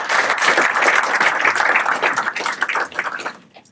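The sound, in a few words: applause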